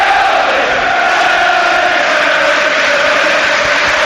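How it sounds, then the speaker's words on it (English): A home crowd at a Leeds United versus West Bromwich Albion football match reacts to their side's performance, a loud, steady roar of many voices filling the stadium without a break. "you can hear what the home crowd think of their side's performance here"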